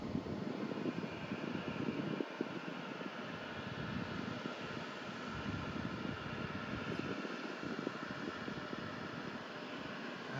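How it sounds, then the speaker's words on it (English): An Avianca airliner on the ground at Ponta Delgada airport in the Azores roars with a steady, dense engine drone that stays constant and fairly distant, with wind rumbling on the microphone and no voices. "doing something with the airplane and there's noise."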